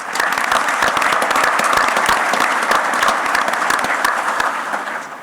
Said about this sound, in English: Can we get a big round of applause for Henning?